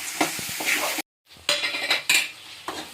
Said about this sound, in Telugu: కొంచెం వేగాలి.